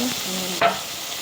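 A spoon stirs food with a splash of added water in a pan on a gas stove, one sharp scrape standing out midway over a soft, close, continuous sizzle.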